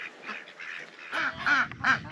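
Ducks quack in a few short, nasal bursts near the end, louder and closer than the softer calls before them, with chickens sharing the new spot where the poultry houses were moved.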